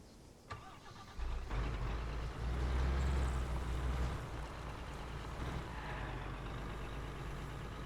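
Truck engine in the Arma 3 video game, turning over and then running at a loud, steady low rumble after the first second, a continuous drone that holds alone for several seconds.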